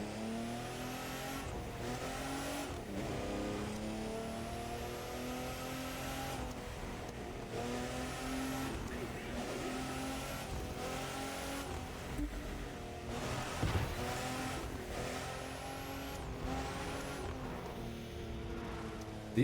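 Street cars in the racing video game The Crew 2 rev and accelerate continuously, with engine and induction notes rising and falling through gear changes and occasional tire noise, loud and steady throughout with no talking.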